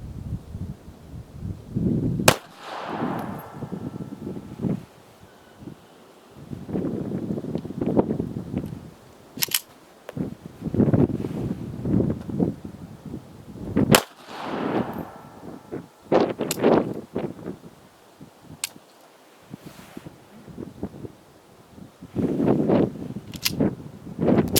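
A Taurus Spectrum pistol fires reloaded ammunition at an outdoor range: sharp, widely spaced single shots with irregular pauses between them, over wind noise on the microphone.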